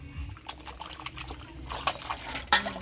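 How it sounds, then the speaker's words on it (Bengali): A boal fish being washed with water, faint splashing and trickling with soft handling noises that grow busier and louder toward the end, close and without speech. "মাছটা পরিষ্কার করে ধুয়ে নেব"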